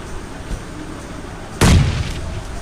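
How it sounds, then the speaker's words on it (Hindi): A grenade bursting in mid-air in the mobile shooter PUBG Mobile Lite, a single sharp boom that cuts in abruptly over low background game noise and decays briefly. "ग्रेनेड हवा में ही फूट जाता है।"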